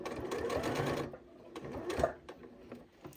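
A Janome 8200 QCP sewing machine stitches fabric in rapid whirring bursts, quiet and close, with short pauses between runs and light handling sounds of the cloth.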